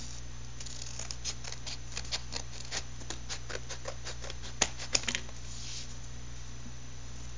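Scissors cutting paper for an art journal, a rapid run of close, crisp snips in a steady rhythm, followed by a few sharper clicks and a rustle of paper, with no talking.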